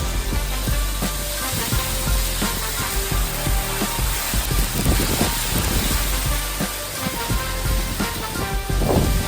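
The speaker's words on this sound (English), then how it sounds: "Holy crap, it is hailing outside." Hail pelts down outside during a house move to a fifth-wheel trailer, a steady, dense rattling patter with scattered sharper impacts, loud and continuous throughout.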